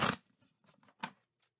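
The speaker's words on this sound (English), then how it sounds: "One more shuffle" Tarot cards being shuffled, a few short papery riffles and slaps close up, quiet and separated by brief pauses, with no talking.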